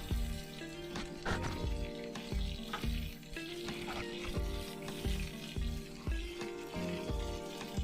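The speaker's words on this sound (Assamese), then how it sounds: "মই ফুলকবিখিনি এনেদৰে অকমান তেল দি ভাজি ল'লোঁ" Cauliflower florets frying in a little oil over a low flame. A steady, close crackling sizzle runs throughout, with occasional scrapes of stirring.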